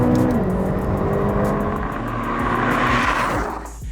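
A McLaren GT engine revs hard toward 8,000 RPM, a loud, continuous rising howl with gear shifts and a roaring tone, heard from inside the car without talk.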